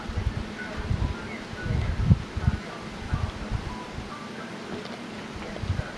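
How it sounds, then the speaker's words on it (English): Wind gusts through an Atlanta snow storm, buffeting the microphone as a low, rumbling roar that swells and eases in uneven waves, with faint rustling on top. "And a little bit of wind coming in. Lots of wind actually."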